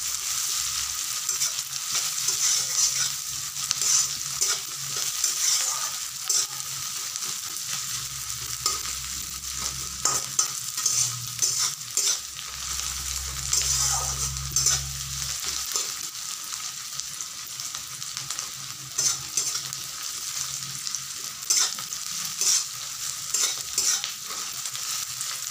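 Onions lightly frying in a pan, set to cook before potatoes are added for a dried-fish dish, give a continuous bright crackling sizzle with occasional stirring clatters, steady and close, with no one talking.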